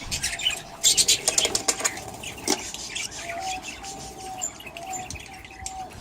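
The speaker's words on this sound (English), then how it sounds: "here's another box full of little chickies just hatched" Budgies in breeding boxes flutter and chirp nearby, with bursts of wing flapping and scratching early on, then thin high peeps from newly hatched chicks in a quiet room.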